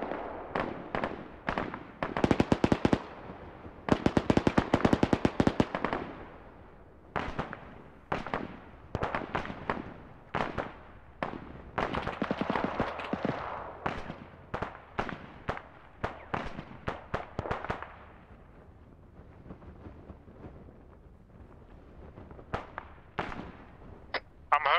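Dense bursts of rapid gunfire in Arma 3 tear a building apart, crackling volleys stacked close together, loud and sharp, thinning to scattered shots toward the end.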